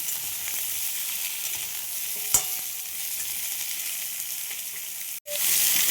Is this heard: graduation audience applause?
no